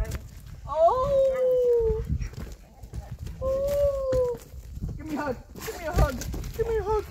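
Outdoor dogs on an off-grid homestead give long, rising whimpering howls, two drawn-out wails and then shorter whines, close by with a person talking over them.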